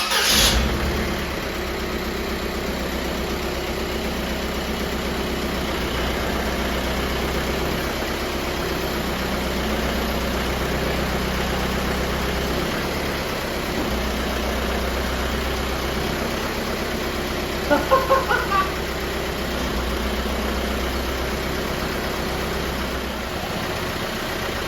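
A diesel-swapped Jeep TJ Wrangler engine cranks and fires up, then settles into a steady, low, rumbling idle that runs close and unbroken, with a brief cluster of clicks or knocks midway and no talking.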